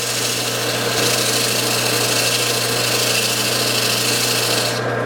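A power sander grinds continuously and loudly against a soft charcoal ring, a steady, dense abrasive whir that runs unbroken throughout with no voices.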